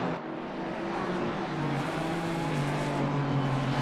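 The BMW and Aston Martin race cars roar together in a racing game at Valencia, a steady, loud engine drone with rising pitch as one pulls ahead of the other.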